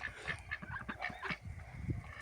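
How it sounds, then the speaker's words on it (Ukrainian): A flock of ducks, including Blue Favorite and Bashkir ducks, and geese honking and quacking in steady overlapping calls, moderately close, with no talking. "І прийшли ми до наших качок."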